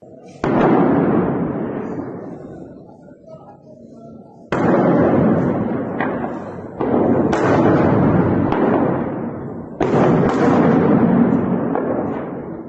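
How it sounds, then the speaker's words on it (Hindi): Bombing in Al-Bukamal, Syria, captured in news footage: four heavy, loud blasts, each striking suddenly and trailing off into a long rolling rumble before the next. "आपने देखा कि किस तरीके से अल बुकामल में ये बमबारी हुई है"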